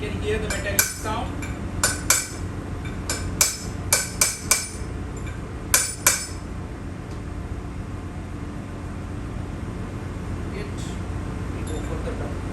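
Metallic ringing taps from a hammer seating a bearing onto a shaft, with scattered close strikes, a few singles and a quick cluster, then quieter steady room noise.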